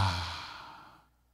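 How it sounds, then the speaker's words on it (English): A single deep breath drawn in and let out slowly, close and fairly loud at first, with a soft airy hiss that fades away to near silence by the end, with no talking. "Now deep breath in."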